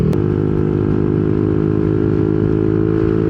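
A Yamaha NMAX scooter fitted with a 4S1M Street Core V3 aftermarket muffler idles steadily, its exhaust giving a loud, continuous low rumble close by with no talking.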